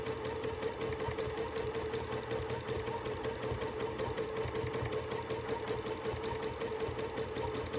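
A sewing machine stitching during free motion quilting on a Linus quilt, running at a steady rapid mechanical rhythm throughout, close and continuous with no talking.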